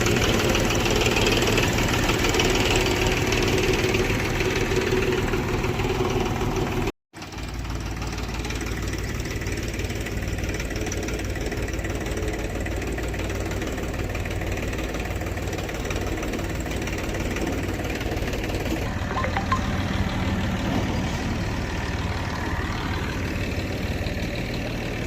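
A tractor engine idles steadily with a low, rough mechanical throb and faint knocking, continuous and fairly loud, in a farm field of very hard ground where a cultivator is working; a brief dropout interrupts the sound early on.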